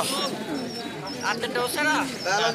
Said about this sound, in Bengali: এখানে আরো অসংখ্য কবুতর আছে আলহাজারের, দেখতে পাচ্ছেন।